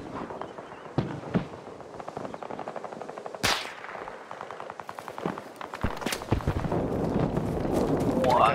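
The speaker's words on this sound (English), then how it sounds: "I just got shot at." Gunfire in the video game Battlefield 2042 on the Stranded map: rapid automatic shots and sharp single cracks, a loud nearby blast partway through, with rattling bursts building toward the end.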